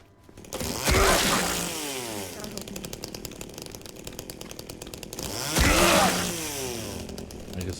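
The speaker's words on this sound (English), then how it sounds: "I just love to chainsaw." A chainsaw in the video game Silent Hill 2 revs loudly twice, each burst rising to a roaring whine and then settling into a rattling idle between the surges.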